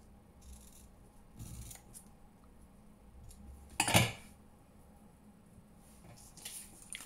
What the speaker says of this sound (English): So I'm just gonna cut. I get my other scissors.